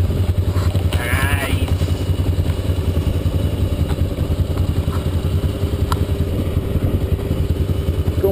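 Honda XR 400 and XR 230 dirt bikes riding off-road, a loud continuous rattling engine drone close by throughout with faint clatter on top.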